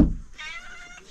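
A house cat gives a short meow in a home, one thin drawn-out call after a brief thump, close and fairly clear.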